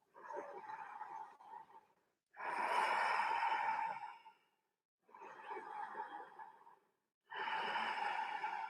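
Deep, slow breaths during a vinyasa yoga flow: four long, close breath phrases, alternating inhales and exhales with brief pauses, heard alone without talk.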